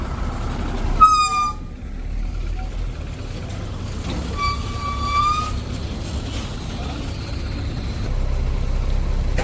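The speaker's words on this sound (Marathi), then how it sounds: "ओव्हरलोडमुळे टायर फाटला आहे त्याच्यामुळे ट्रॅफिक जाम झालेली दिसते आपल्याला" Traffic jam on the Wada–Bhiwandi highway, caused by an overloaded truck with a burst tyre: a steady rumble of idling heavy trucks and vehicles, with a few sharp horn toots and air-brake hisses cutting through near the start and middle.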